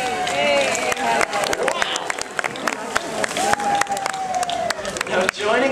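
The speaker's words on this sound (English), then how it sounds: "Let's all hear a big round of applause for her." Audience applause and cheering for a dolphin at the Vancouver Aquarium, a steady crowd wash with whistling dolphin calls and scattered shouts running through it, lasting throughout.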